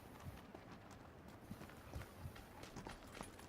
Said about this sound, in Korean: 발소리 들은 것 같은데?